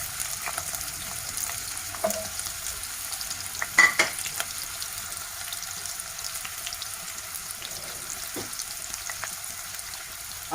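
Onions frying in hot oil in a kadhai give a steady close sizzle throughout, with a few louder clinks and stirring scrapes near the start and middle.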